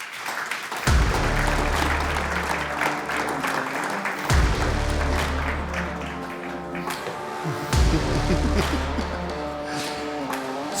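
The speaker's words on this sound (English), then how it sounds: "thank you very much for the warm applause" Warm audience applause fills a business conference hall as Volvo Group's CEO takes the stage at a mobility forum, dense steady clapping with a deep low musical tone swelling beneath it in three repeating waves.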